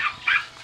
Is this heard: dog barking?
yes